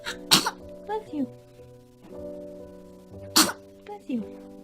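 A baby sneezes twice, each a sharp burst about three seconds apart, with soft baby vocal sounds and humming voices around them.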